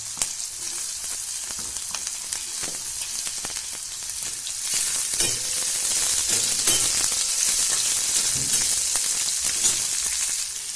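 Sliced onion and green chillies fry in a hot pan with a steady, close crackling sizzle that grows slightly louder and busier partway through, with occasional stirring noises.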